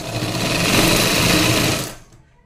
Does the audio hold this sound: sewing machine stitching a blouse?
yes